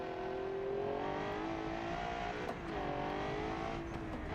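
GT2 Pro race car engine in a racing video game, a steady high-pitched drone that pulls through the revs, drops briefly at a shift and climbs again, heard alone and at moderate volume.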